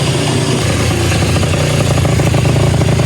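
A 2005 Yamaha Zuma scooter fitted with a big bore kit and a repacked silencer runs on a dyno, its engine held at a loud, steady high rev with rattling mechanical clatter throughout.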